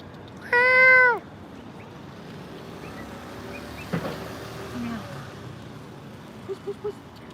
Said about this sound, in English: Oh, there's two cats.